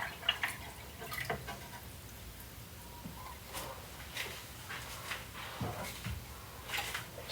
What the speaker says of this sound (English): dump water into the reservoir